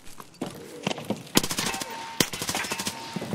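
Rapid gunfire in the shooter Escape from Tarkov, a string of sharp close shots and short automatic bursts with uneven spacing, mixed with faint game noise.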